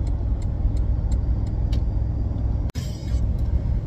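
A 2022-or-newer Toyota Tundra pickup pulling a big enclosed trailer gives a steady, loud low engine and road rumble from inside the cab, with a brief dropout near the end and faint ticking.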